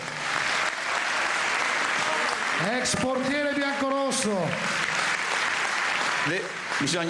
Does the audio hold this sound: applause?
yes